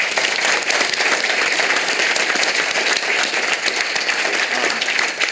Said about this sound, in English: just give yourselves all a big round of applause.